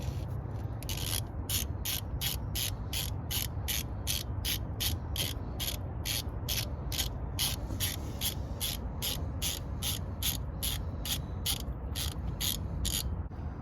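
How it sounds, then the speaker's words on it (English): Torque gun on a 2020 Honda Recon 250 ATV, clicking in a fast regular train of sharp ratcheting ticks for over twelve seconds over a low steady hum, close and fairly quiet, with no talking. "I got the torque gun out because it's supposed to be torqued to 18 foot-pounds by the manual"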